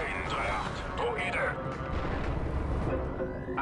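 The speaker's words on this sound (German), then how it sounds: "Achtung, Granate." A grenade blast in the Star Wars: Republic Commando shooter, a loud rumbling boom that fills the short stretch along with dense gunfire and battle noise, with a voice talking over it.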